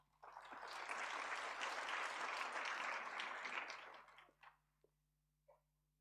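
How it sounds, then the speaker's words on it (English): An audience at the Better Air Quality Conference 2026 opening plenary breaks into a full round of applause. It swells quickly and holds steady for about four seconds, then thins out into a few last scattered claps. "A big round of applause, please."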